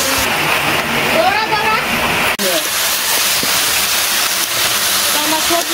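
Water pours into a pan of cooking vegetables with a continuous rushing splash and sizzle, loud and close, broken by a brief clack midway, as someone speaks over it.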